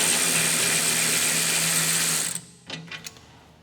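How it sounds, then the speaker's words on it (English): Electric ratchet backing a brake caliper bolt off a Ford F-series truck: a steady, loud whirring buzz for over two seconds, then stopping, followed by a few short clicks and light clatter. "My electric ratchet, super handy."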